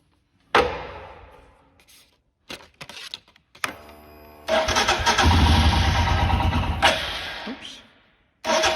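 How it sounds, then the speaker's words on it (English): A 2022 Royal Enfield Himalayan fuel-injected motorcycle is cranked with a few short starter bursts, then its engine catches and settles into a loud, steady idle close by, with a brief revving swell near the end. "And since we are here at the motorcycle, let's see if we can get it started."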